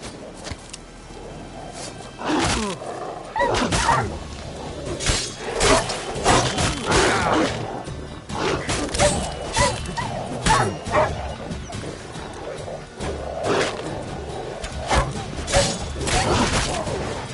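Stray dogs attack in The Witcher 3, their barking, yipping and snarling repeating in bursts over a steady game soundscape with crashing combat hits, no talk.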